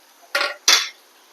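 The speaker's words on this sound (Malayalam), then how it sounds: "ഒരു തക്കാളി ഇട്ടിട്ട് വഴറ്റി കൊടുക്കാം ഇത് നന്നായിട്ടൊന്ന് വഴന്ന് വരട്ടെ നന്നായി ഇളക്കി കൊടുക്കാം" Onions and tomato sautéing in a pan are stirred in two quick scraping strokes, each a short, fairly loud burst of metal on metal with quiet between them.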